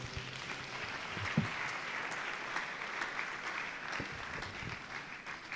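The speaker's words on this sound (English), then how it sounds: "Let's continue to clap for him until he takes his seat." Audience at a World Malaria Day commemoration clapping steadily for a departing honoree, a dense, even wash of applause with a few sharper claps standing out, moderately loud throughout.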